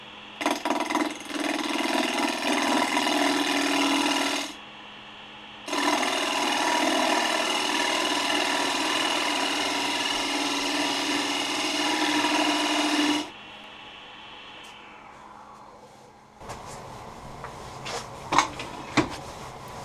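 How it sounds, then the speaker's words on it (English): A wooden tenon cut on a lathe gives a loud, sustained scraping rasp of the tool against spinning wood, in two long passes with a short gap between them, then quieter clicks and handling noises. "First, I need to cut a tenon."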